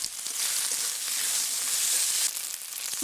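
Chopped tomato sizzles loudly in oil with fried spices for a duck curry, giving a bright, continuous hiss up close, with a few soft stirring scrapes.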